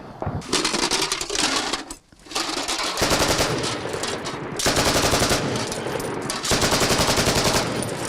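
Rapid bursts of automatic gunfire aimed at the listener's position rattle loudly and close, in several long sustained strings separated by brief pauses, in a combat zone at Pisky, Ukraine.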